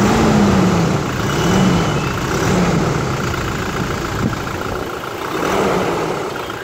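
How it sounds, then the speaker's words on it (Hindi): A Toyota Innova Crysta with the 2.8-litre automatic engine runs steadily at close range, its low engine drone swelling slightly a couple of times without distinct high revs, with no talk over it. "अब हम लोग करते हैं ये जो इंजन है इसको थोड़ा सा रेव।"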